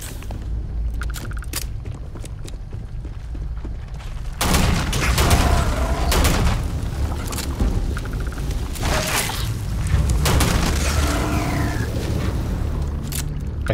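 Gunfire in the sci-fi video game Starfield: a quieter stretch of clicks and mechanical sounds gives way to loud, repeated shots and booming impacts in rapid bursts.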